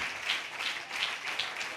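Church congregation clapping and applauding in praise during a Spanish-language worship service, a steady wash of many hands with rhythmic pulses, moderately distant and reverberant.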